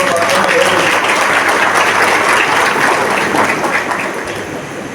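An audience at a weavers' community gathering in Karnataka claps loudly and steadily, a dense crowd of applause that tapers off slightly at the end.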